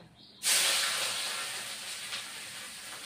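Chopped onion drops into hot oil with a sudden loud hiss that bursts in after a quiet moment, then settles into a steady, slowly fading sizzle close by.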